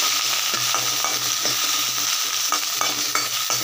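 Okra sautés over low heat in a pan for sambar, a loud, steady sizzle with a soft, regular scraping of the spatula stirring through it, up close and without speech.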